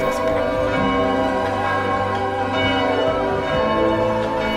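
Church bells ringing steadily throughout, loud and near, with overlapping tones in a dense, continuous peal and no speech.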